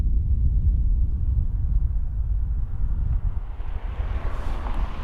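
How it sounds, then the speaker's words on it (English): Heavy desert storm wind buffets the microphone in a continuous low roar, easing a little near the end as a faint hiss rises. "Sorry about the wind. It is really windy."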